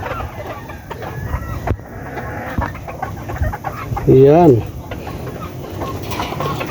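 Young pullets, pure Lemon chickens, cluck and call amid farmyard noise, with one loud rising squawk standing out; someone speaks briefly.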